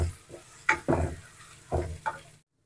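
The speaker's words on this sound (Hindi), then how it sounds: "अब इसमें ऐड करता हूँ अदरक लहसुन और मिर्ची का पेस्ट।" Ginger, garlic and chili paste sizzles in a pan with onions, stirred in short scraping bursts with crackling frying between them, close and moderately loud before cutting to silence.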